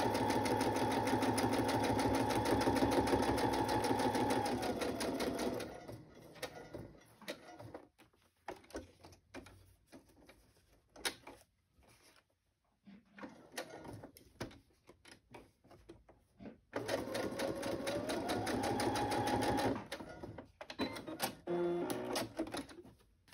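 A sewing machine runs a straight stitch in two long steady bursts of close, even motor whirr, separated by a stretch of quieter clicks and fabric handling.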